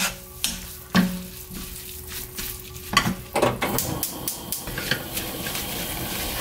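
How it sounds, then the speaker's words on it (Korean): Seasoned mulberry leaf greens stir-fried in a pan, with scattered scraping and clatter of a utensil against the pan at first, then denser crackling sizzle and stirring noises close by, no voices. "한번 골고루 이제 볶아주겠습니다."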